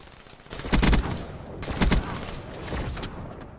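Gunfire in Black Ops 3 free-for-all multiplayer, two loud bursts of rapid shots close together followed by quieter trailing fire, with no talk over it.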